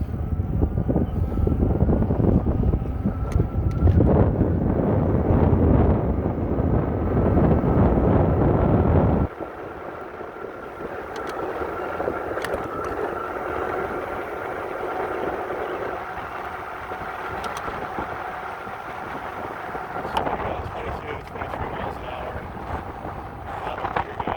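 A fat tire folding e-bike, the Eahora X7, rides under throttle outdoors. Heavy wind rumble fills the first part, then a thin steady motor whine continues with brief voice sounds.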